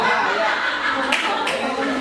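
Hand claps in a group teacher-training session: a couple of sharp claps burst out over steady chatter and light laughter from the people in the room.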